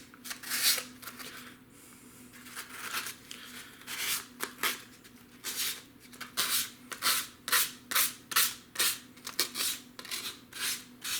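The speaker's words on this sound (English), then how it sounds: "Sandpaper right here." Sandpaper rubbed over the tissue covering of a model plane in quick back-and-forth rasping strokes, sparse at first and then a steady rhythmic run of strokes; close and clear, no talking.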